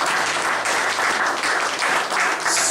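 A church congregation breaks into loud, sustained applause acclaiming the Lord during a worship service, a dense, even wash of clapping throughout.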